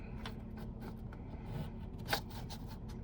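Pen scratches as it outlines a two-point perspective box drawing in red, a series of soft, close strokes with brief pauses between them.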